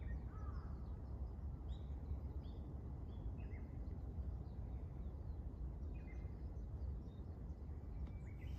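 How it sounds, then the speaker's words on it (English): Crows caw and smaller birds call in a cherry blossom cemetery in Kanagawa, scattered distant calls over a steady low outdoor hum, faint and unhurried. "Yes, lots of birds."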